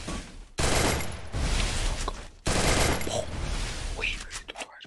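Bursts of rapid automatic gunfire in a shooter video game, dense sustained volleys broken by short pauses, with faint player chatter underneath.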